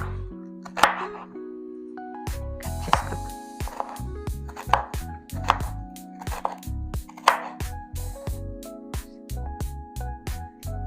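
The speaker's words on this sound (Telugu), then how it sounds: "ఇలాగా ముక్కలుగా కట్ చేసుకున్నాను" A knife chops bitter gourd into small pieces on a cutting board, with steady, rhythmic strokes in close, distinct bursts and short pauses between runs.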